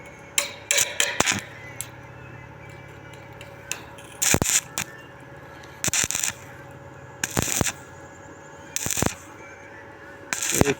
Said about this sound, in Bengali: এই যে বন্ধুরা ঝাল দিচ্ছি, দেখুন আপনারা।